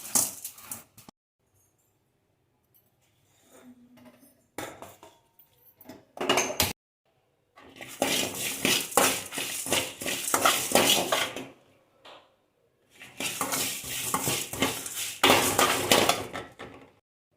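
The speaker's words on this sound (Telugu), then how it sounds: "ఇవన్నీ ఇలా డ్రై రోస్ట్ చేసుకొని పక్కన పెట్టుకోవాలి" A spoon stirs and scrapes dried chillies, coriander seeds, cumin, pepper, fenugreek, cinnamon and curry leaves as they dry roast in a metal pan over low flame, in loud clattering bursts separated by quiet gaps.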